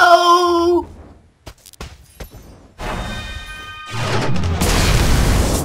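A mine detonates in the video game Magicka, a loud broadband boom that swells in the last two seconds after a tonal musical passage and scattered sharp hits, with no talk over it.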